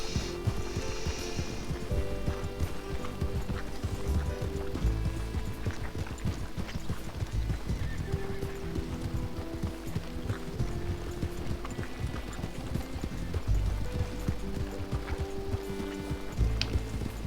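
Horse hooves trotting in Red Dead Redemption, a continuous rhythmic clip-clop with light mechanical rattles mixed in, moderate in level and steady throughout, no talk.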